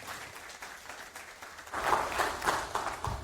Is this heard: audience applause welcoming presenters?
yes